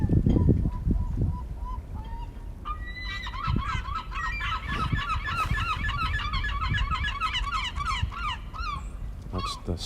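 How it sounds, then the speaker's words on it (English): Herring gulls calling on the eastern Long Island shore at flood tide, a run of repeated laughing, yelping cries in quick succession over a low rumble of wind and water. "That's the sound of the herring gulls."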